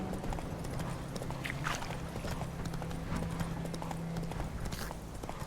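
Roach the horse galloping in The Witcher 3, steady rapid hoofbeats at a brisk even rhythm, close and continuous over a low ambient hum.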